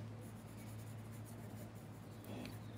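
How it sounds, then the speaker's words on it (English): A pencil shades across paper in a continuous soft scratchy rasp, close and faint, with no talk. "I change the darkness or the pressure of my pencil when I'm shading"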